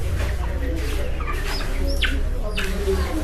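Chickens cluck and squawk at a poultry shop, a few short calls over a steady background din, with people talking.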